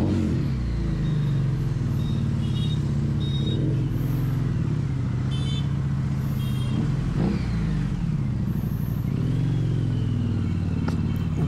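A Harley-Davidson motorcycle ridden on the road: a steady, loud low engine and exhaust rumble runs throughout, close to the listener, with slight changes in revs and some traffic noise.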